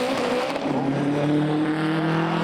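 A front-wheel-drive drag race car on slick tyres launches hard at Santa Pod Raceway, a loud close engine roar rising in pitch over a brief, continuous burst.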